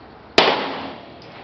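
A single sharp gunshot at a West Point firing range, loud and close, with a sudden crack and a reverberant tail that fades over about a second.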